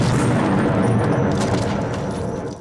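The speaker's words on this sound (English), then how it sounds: "Whitehurst, in an act of sheer bravery and badassness, jumps onto the grenade to save the rest of the gang" A grenade explosion from the 1991 horror film Child's Play 3: a loud, sustained boom with a dense low-end roar that fills the whole moment and slowly tapers away, with no voices over it.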